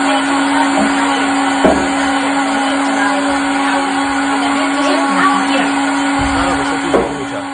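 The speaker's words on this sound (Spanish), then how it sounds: "prende la licuadora como para no escucharla" A kitchen blender runs steadily throughout, a loud continuous motor whine with a strong steady hum and a few brief clunks and bumps along the way.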